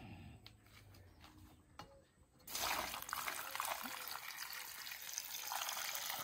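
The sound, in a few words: water poured into a cauldron with corn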